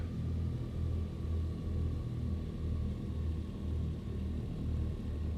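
Piston engines of a Douglas DC-3 rumble steadily while it taxis at Heathrow, a low, pulsing drone that stays even throughout.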